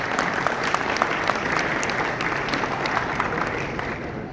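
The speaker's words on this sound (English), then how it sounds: "Can we have a round of applause for that?" Audience applause at a property launch event in Goa, a steady close wash of many hands clapping with no voices over it.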